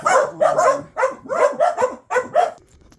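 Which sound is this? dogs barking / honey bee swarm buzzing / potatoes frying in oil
dogs barking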